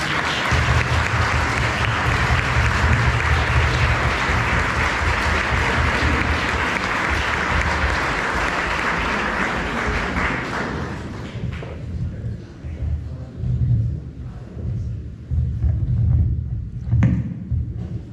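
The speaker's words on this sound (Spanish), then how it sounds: "Un aplauso para Fernando." An audience at a Spanish book presentation for Cristina Higueras's latest book gives Fernando a sustained round of applause, steady and full for about ten seconds before it thins into scattered claps and murmuring.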